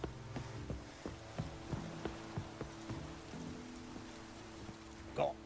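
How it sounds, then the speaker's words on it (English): Light drizzle in the video game The Witcher 3, a soft continuous patter under steady horse hoof clip-clops and faint music, with no talk. "Oh, it's drizzling."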